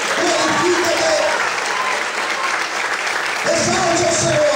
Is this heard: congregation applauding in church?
yes